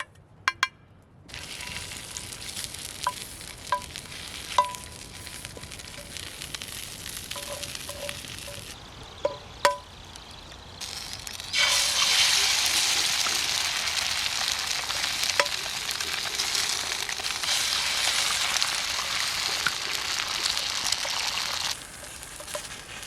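Sausage and eggs frying in a pan over a campfire in a mixed woodland at a bushcraft camp, a steady sizzle that grows louder and denser midway, with light clinks and scrapes and no talking.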